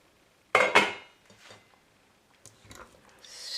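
A utensil scraping and clinking against a pot of shrimp simmering in coconut milk, two sharp knocks followed by softer scattered taps and stirring noises.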